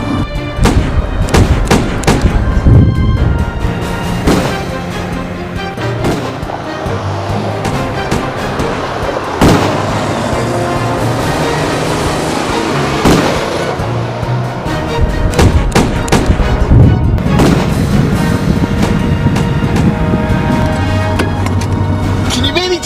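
Gunfire crackles in a video game as shots are fired from a moving vehicle: repeated sharp reports and thuds layered over a dense, loud, continuous game soundscape with a steady rumble underneath.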